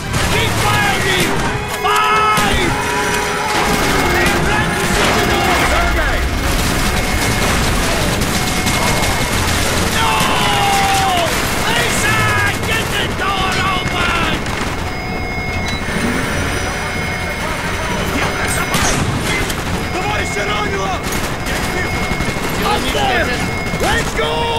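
Constant gunfire in the Call of Duty Black Ops video game, with bursts of shots, crashes and booms layered over loud music and shouting voices throughout.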